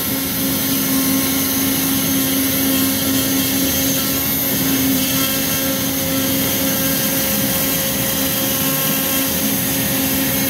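Steady loud whirring roar of a shop vacuum pulling dust through a two-piece dust boot on an X-Carve CNC router during carving, constant and unbroken throughout, with strong tonal hum lines.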